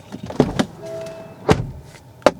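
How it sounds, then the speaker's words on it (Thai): An MG4 electric car door opens with a few sharp mechanical clunks and latch clicks, spaced apart by a faint whir, close and fairly loud with no talking. "ตอนเราแบบเปิดประตูนะ อย่างเงี้ยนะครับ"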